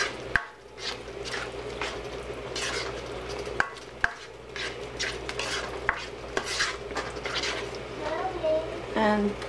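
Spaghetti with milk and cheese bubbles gently in a pan while a utensil stirs and scrapes through it, with sharp clicks and a low steady hum, and a voice faintly in the background.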